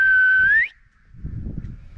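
A person whistles outdoors to call animals: one loud, sustained whistle that rises in pitch at the end, then breaks off into quiet wind and low rumbling.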